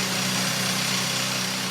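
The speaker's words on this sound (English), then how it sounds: "a gentleman turned up with the most incredible drill, more than a metre long, and he began to make holes" A metre-long rock drill bores blast holes deep inside a gold mine tunnel, giving a loud, steady high-pitched mechanical whine and rattle that runs unbroken for the whole stretch, alone with no talk.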